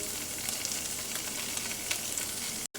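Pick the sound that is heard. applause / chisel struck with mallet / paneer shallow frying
paneer shallow frying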